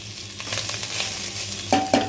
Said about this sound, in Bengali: এরপরে কী করবো জানো, একটু নাড়িয়ে নিলাম জাস্ট